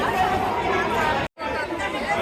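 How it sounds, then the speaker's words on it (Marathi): A steady murmur of a dense crowd fills the area at Mahakal temple in Ujjain, with many overlapping voices chattering close by. It breaks off for a moment in the middle, then picks up again. "हे बघा गर्दी खूप आहे"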